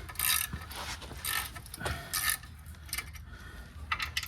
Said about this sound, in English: I'm just gonna snug them down with a 1/4 inch.